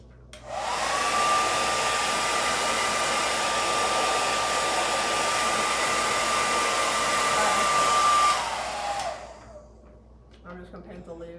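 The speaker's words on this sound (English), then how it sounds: "Okay, just blow dry the leaves." A blow dryer roars steadily for about eight seconds while drying freshly painted leaves on a craft project, close and loud, then cuts off, leaving faint handling noise.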